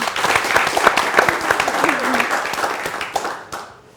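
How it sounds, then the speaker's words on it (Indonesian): A studio audience at a televised talk on millennials claps together: a thick, crackling burst of many hands with a brief voice rising over it, easing off and tapering away near the end. "tepuk tangan dong"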